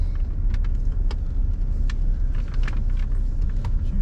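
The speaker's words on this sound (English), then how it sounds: "Car runs and drives beautifully." A 1991 Mercedes-Benz 300SE in smoke silver metallic is being driven, with steady road and engine rumble and a few faint clicks and rattles throughout.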